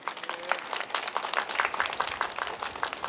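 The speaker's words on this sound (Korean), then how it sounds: "큰 박수로 다시 한번 맞아주시기 바랍니다." Audience applause welcoming the mayor of Yeoju onstage at the 2021 Yeoju Ogok Naru autumn harvest festival at the Yeoju Premium Outlets; a moderately loud, steady burst of many hands clapping, lasting about three seconds.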